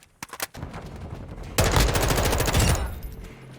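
M4A1 rifle fire in Modern Warfare 2 multiplayer: a few sharp single shots, then a loud rapid automatic burst of about a second, close and punchy, trailing off into quieter game ambience.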